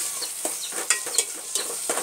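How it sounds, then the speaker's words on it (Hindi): Bottle gourd curry with tomato being stirred in hot oil, giving a soft steady sizzle with repeated scraping strokes of the spoon at a close, moderate level. "अब इसके बाद पूरा डालकर अच्छे से एक मिक्स देंगे।"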